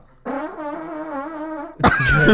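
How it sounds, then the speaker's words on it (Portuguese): A long, loud, buzzing fart with a wavering pitch, followed by a burst of noisy commotion at the end. "Peido é algo historicamente cômico, né?"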